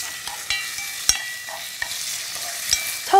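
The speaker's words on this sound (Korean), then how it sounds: "고기가 익을 정도까지 달달 볶아주세요" Pork sizzles as it is stir-fried in a hot Korean earthenware pot, a steady close frying hiss broken by sharp clacks of a utensil scraping and tapping the pot.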